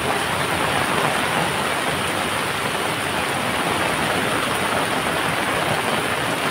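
A river in full flood in a Konkan village rushes past in a loud, unbroken roar of churning water, close and steady throughout with no voices.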